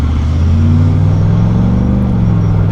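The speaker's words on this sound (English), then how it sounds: "I really do like this MagnaFlow system. It's got a nice tone to it." Hot rod car with a MagnaFlow exhaust system idling at a car show stop, a deep, steady burbling rumble with a low throaty tone, close and loud, engine pitch rising slightly midway.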